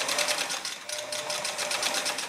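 A sewing machine stitches a shirt cuff placket in a fast, steady, closely recorded run of needle clatter with no pauses.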